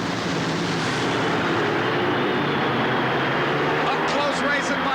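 Top-fuel dragsters roaring down the strip at the 1989 NHRA Fram Supernationals, a loud sustained engine blast filling the whole clip with broadband roar, crowd and announcer-like voice blended underneath.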